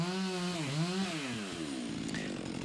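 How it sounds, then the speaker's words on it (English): Chainsaw cutting rotten aspen trees during urban tree removal in Helsinki, a loud, steady engine drone close by whose pitch dips and rises as the throttle changes, then settles into a rougher idle. "Sometimes they don't hear the chainsaw."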